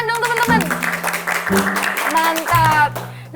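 Podcast hosts and friends clap and cheer in a studio. Loud, lively applause is mixed with music and overlapping voices.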